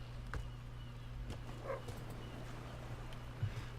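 A dog in the fantasy role-playing game Might & Magic X: Legacy gives a few faint, brief yips and whimpers against a quiet, steady game background.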